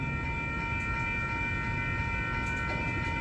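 A BNSF freight train passing in St Paul, Minnesota, a steady rolling rumble with a constant tonal hum, heard from a moderate distance without talk.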